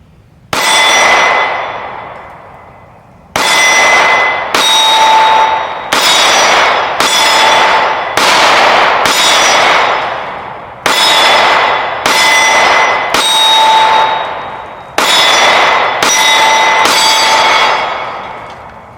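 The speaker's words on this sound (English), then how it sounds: "That's good shooting, Tech." Rapid strings of sharp metallic clangs, like pistol rounds from an IWI Masada striking steel targets, come in several bursts of close, loud, evenly spaced impacts separated by short pauses, with no talking.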